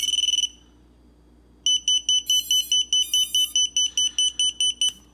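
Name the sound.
lost model alarm buzzer going off on RC model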